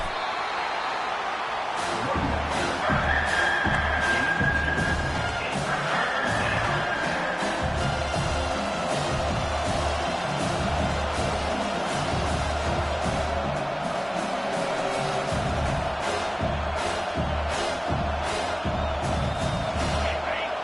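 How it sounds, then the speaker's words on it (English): A stadium crowd in the NCAA 25 football video game roars continuously behind the defense on third down, a dense, loud wall of cheering and whoops with steady low rumble throughout. "Decibels rising as the crowd gets behind this defense on 3rd down."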